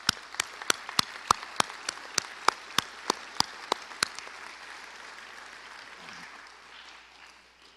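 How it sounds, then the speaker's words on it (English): Audience applause in a school auditorium at a mechanical lab dedication begins as a dozen or so sharp, evenly spaced claps, then softens into a diffuse patter of many hands that gradually fades out. "Ladies and gentlemen, please, with your applause, help me thank these kids for the great young people they are."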